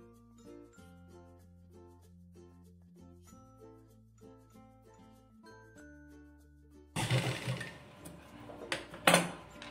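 After a stretch of soft tonal notes, a sewing machine stitching cloth for a one-year-old baby's dress bursts in with a loud, rapid mechanical whir that lasts a few seconds.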